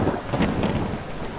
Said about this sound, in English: Why am I standing in the rain?